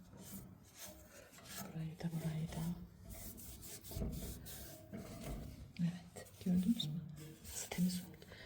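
A cloth wiped across a radiator, soft rhythmic rubbing and rasping strokes heard close but quietly, with someone talking over much of it.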